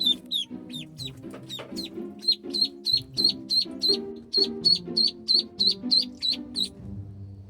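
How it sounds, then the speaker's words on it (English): Baby ducklings peep close by, giving a long run of rapid, high, evenly spaced chirps with a few softer calls mixed in. "we also got some really neat shots of baby ducklings"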